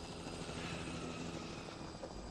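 Helicopter in The Last of Us Remastered, a steady loud rotor drone with engine whine filling the whole clip, no voices over it.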